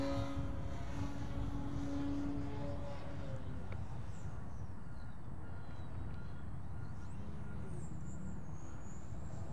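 A steady, droning whine from a small electric RC fixed-wing plane powered by LiPo batteries, flying at a distance near a lake, with wind and faint outdoor noise throughout.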